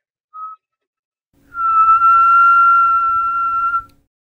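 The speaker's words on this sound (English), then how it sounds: "I was whistling at something like maybe somewhere between 500 and a kilohertz" A person whistling nearby: a brief short note, then after a pause one steady, clear, sustained tone held for about two seconds, alone in a quiet room.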